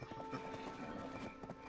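Horse mount in the video game Black Desert, rapid rhythmic clip-clop hoofbeats trotting steadily at close range, fairly quiet over a faint game backdrop.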